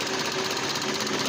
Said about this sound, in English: The engine's shaking pretty bad and it's starting to die.